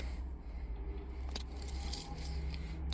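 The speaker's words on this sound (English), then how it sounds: "Oh, good, keys. Oh, it's got a lot of keys." A large ring of keys for a 1995 Dodge Caravan at a salvage yard jangles in a few short metallic bursts, close and fairly quiet, over a low rumbling background.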